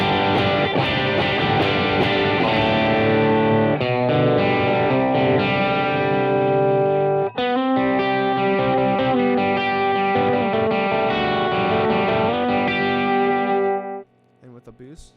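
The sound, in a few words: electric guitar through Keeley D&M Drive overdrive pedal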